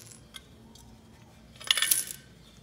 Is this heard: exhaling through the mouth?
no